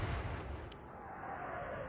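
Naval artillery fire in the Atlantic Fleet video game, a heavy continuous boom and rumble of big guns sustained across the whole moment, loud and dense with no talk.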